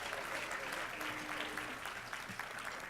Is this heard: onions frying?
no